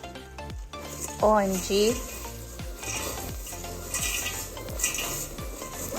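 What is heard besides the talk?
mixing Rice Krispies treats mixture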